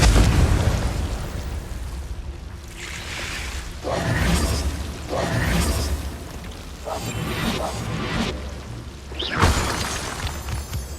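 Confringo spells burst in Hogwarts Legacy, a run of loud fiery explosions with whooshing blasts and crackling debris at intervals over a rumbling game backdrop.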